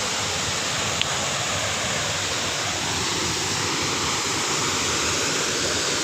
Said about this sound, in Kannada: ಇನ್ನೊಂದು ನೀರು ಸೌಂಡ್ ಎಲ್ಲ ಕೇಳೋದಕ್ಕೆ ತುಂಬ ಚೆನ್ನಾಗಿದೆ